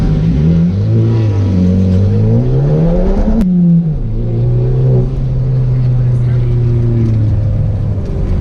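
A Honda Civic Type R runs on a race track, its engine note climbing steadily in pitch as it revs up, dropping briefly at a gear shift, then holding a strong, sustained drone close by.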